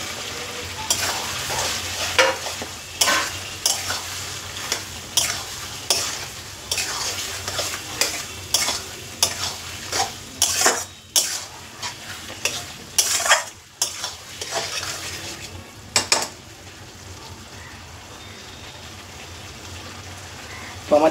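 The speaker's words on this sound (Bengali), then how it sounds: "এবার ভেজে রাখা এই চিকেনগুলো দিয়ে দেবো এর মধ্যে।" Fried chicken pieces being stirred into a sizzling chilli chicken sauce: a loud, continuous sizzle with rhythmic scraping and clanking stirs of a spoon against the pan, easing off toward the end.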